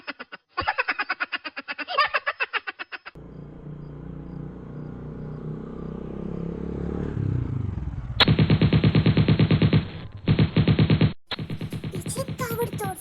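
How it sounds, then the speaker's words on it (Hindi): Rapid, heavy machine-gun fire in a Roblox roleplay game, with bursts of dense, crackling automatic shots at the start and again near the end, separated by a rising mechanical whine. "पीछे ताबड़तोड़ फायरिंग हो रही थी"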